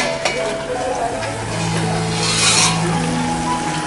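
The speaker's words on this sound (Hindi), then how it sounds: "मसाले को मैं तेल छूटने तक अच्छे से फ्राई करूंगी।" Masala fries in oil in a pan over medium-high heat for prawns butter masala, giving a steady close sizzle mixed with scraping, rubbing stirring sounds.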